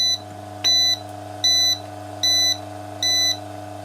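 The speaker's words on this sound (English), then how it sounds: "now it's beeping" An Eta Siesta breadmaker gives five evenly spaced electronic beeps, each about a third of a second long, over a steady mechanical hum with no talking.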